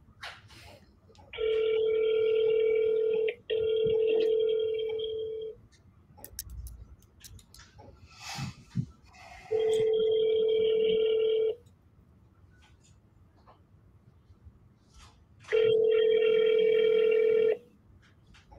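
Ringback tone of an outbound telephone call during a sales call: three long, steady ringing bursts evenly spaced several seconds apart, with faint speech and noise in the gaps between rings.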